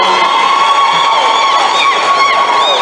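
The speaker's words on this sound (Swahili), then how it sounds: "tuwapigie makofi tafadhali" A large crowd roars and cheers continuously at an ODM political rally at Bomas. The sound is loud and dense, with shouts and whoops rising from the mass of voices.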